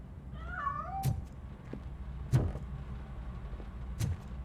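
A cat escaping from inside a piano in RoboCop: Rogue City lets out one short, wavering meow near the start, followed by a few soft thuds and faint background noise, with no talk.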